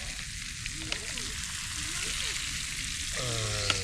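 Garlic and peppers sizzle steadily in a pan over an outdoor fire on a cold Canadian shore, a continuous close crackle running throughout, with a brief scrape of stirring near the end.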